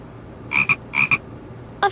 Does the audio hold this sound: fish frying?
no